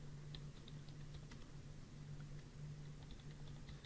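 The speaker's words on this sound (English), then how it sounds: "Now notice I'm just typing them in" Quiet typing on a computer keyboard, light scattered key clicks under a steady low hum, with no talk.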